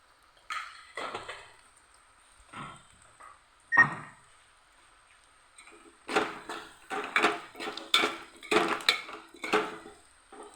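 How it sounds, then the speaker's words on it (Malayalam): Spoon clatters and scrapes against a pot as jackfruit biryani is stirred, a few sparse knocks early then a busy run of repeated metallic scrapes and taps, close and fairly quiet, with no talking. "ഇളക്കി കൊടുക്കുക"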